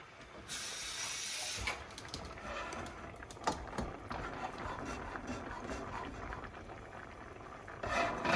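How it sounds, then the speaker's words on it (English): Evaporated milk boiling in a pan in a home kitchen, a steady close bubbling hiss with scattered pops and crackles throughout, no talking. "just going to wait for a few minutes until all of it is boiling"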